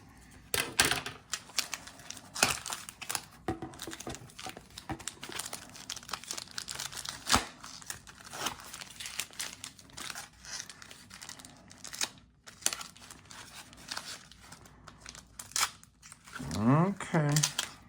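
Taped mail package being torn open by hand: a steady run of crinkling, ripping and tearing noises of tape and packaging up close, with a few short pauses and brief talk near the end.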